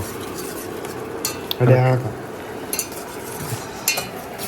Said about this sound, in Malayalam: വെജീസ് ഇട്ടു പിന്നെ അതിൻ്റെ മസാല ഇട്ടു ഇതാ ഇളക്കിക്കൊണ്ടിരിക്കുകയാണ്